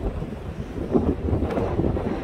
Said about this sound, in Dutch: Het waait in één keer heel hard weer.